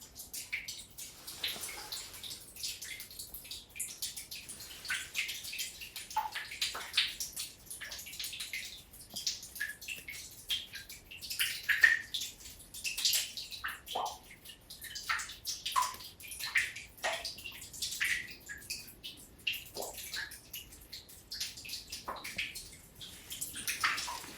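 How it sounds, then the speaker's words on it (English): Water drips steadily inside a cave fed by a natural spring, soft irregular drops and trickles echoing at close to moderate distance over a quiet background, with no talking. "Can you hear the dripping?"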